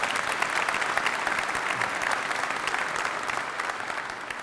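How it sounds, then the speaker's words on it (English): Steady applause from an audience at a governor's military affairs announcement, a dense wash of many hands clapping evenly throughout, fairly close and sustained without pause. "Go ahead and give him a round of applause."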